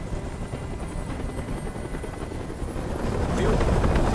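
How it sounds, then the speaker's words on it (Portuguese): A helicopter in the video game Detroit: Become Human drones loudly and continuously with a thudding rotor beat, building slightly louder toward the end. "Mas esse barulho! Esse helicóptero tem que sair daqui agora!"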